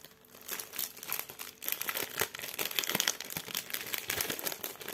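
Plastic wrapping on a Disney-themed cross-stitch kit package crinkles and crackles steadily as it is opened up close, with dense rustling bursts throughout and no talking.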